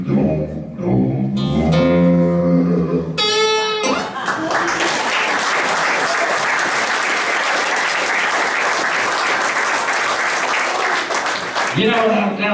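A church congregation at a cowboy church service breaks into loud, sustained applause that fills the room; a few seconds of singing come just before it, and the clapping fades at the end.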